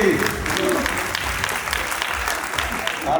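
A hall full of people applauds at a carnival programme, steady rapid clapping from a crowd with a low hum underneath, sustained evenly from start to finish.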